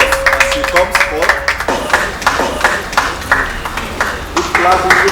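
An audience claps and applauds at a reality show event, with brisk, scattered hand claps running under loud talk throughout.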